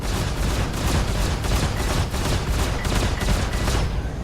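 Spaceship weapons in the space combat game Star Citizen firing in a dense, loud, rapid burst of repeated shots that runs without pause throughout.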